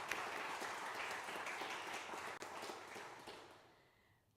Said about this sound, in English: Let's give them a round of applause for their great work.